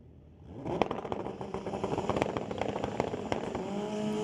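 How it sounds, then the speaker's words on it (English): Street-legal drag motorcycles, including a 2008 Suzuki and a Honda, rev on the starting line at a raceway, a rising mechanical roar broken by sharp crackling pops and repeated throttle blips, loud and close, with no voices. "I love the sound of these bikes as they're revving up on the starting line"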